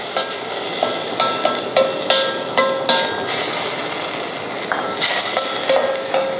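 Gravy sauce with red wine simmers and bubbles in a pan with a continuous close sizzle. Light metallic clicks from stirring are scattered through it, and no one talks.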